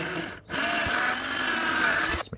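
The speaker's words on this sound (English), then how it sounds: "So I'll drill this hole first." A handheld power drill bores a pilot hole for mounting a solar-lit repeater, whirring steadily for about two seconds after a brief pause, close and fairly quiet, with no talking.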